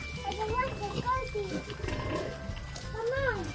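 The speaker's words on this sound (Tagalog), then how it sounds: "Yung ating mga biik." Piglets grunting and squealing on a farm in the Philippines at feeding time, several short high oinks and squeals scattered among people talking and general farmyard noise.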